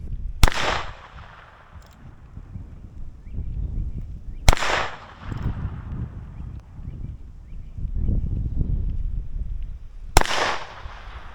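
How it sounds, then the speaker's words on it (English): Three sharp distant cracks from a Heritage Rough Rider .22 Magnum revolver, heard from 155 yards, spaced several seconds apart, each followed by a short rolling echo over quiet outdoor background. "Heritage Rough Rider 22 Magnum."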